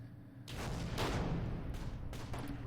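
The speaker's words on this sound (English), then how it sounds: "Looks like they're dropping some more of the sort of artillery on us." Artillery fire in the World War II strategy game Close Combat, a few muffled broadband blasts and rumbling impacts rolling in succession at moderate distance, with no voices.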